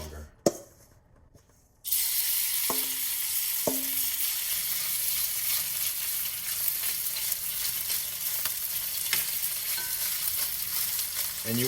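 Shrimp frying and being stirred in a non-nonstick pan with vegetables for crispy salt and pepper shrimp: a few brief clinks open, then a loud, steady sizzle begins and continues, with occasional scraping taps from stirring.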